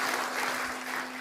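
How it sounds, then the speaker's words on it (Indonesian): A lecture-hall audience at a university doctoral examination gives dense, steady applause that fills the whole short moment at an even, fairly loud level. "kita berikan tepuk tangan yang meriah"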